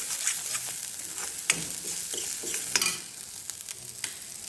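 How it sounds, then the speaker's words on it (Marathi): Potato curry gravy roasts with masala in a pan as a close, even sizzle, marked by repeated light scrapes and taps of a stirring spoon that grow a little quieter toward the end, with no voices. "आता हे बघा, ग्रेव्ही चांगली भाजून घेते."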